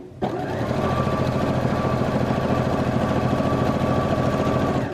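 A sewing machine stitching a blanket along its quilting line, a loud, steady rapid mechanical chatter that starts abruptly and runs continuously without pause.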